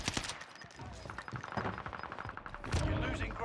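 Rapid gunfire and sharp rifle shots crackle through a Warzone match, a dense run of reports with a heavier blast near the end, no talking heard.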